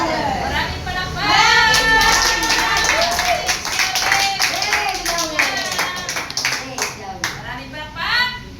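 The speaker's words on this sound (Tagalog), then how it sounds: "Maraming palakpak." Rhythmic clapping from a crowd at a charismatic prayer meeting, sustained throughout, mixed with voices and a few children speaking over it.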